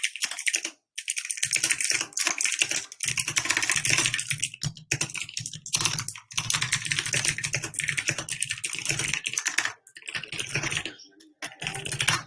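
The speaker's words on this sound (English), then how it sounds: "Sorry about the keyboard noises" Rapid, irregular typing on a computer keyboard, close and fairly loud, clattering almost continuously with a few short pauses and a low steady hum underneath; no one speaks.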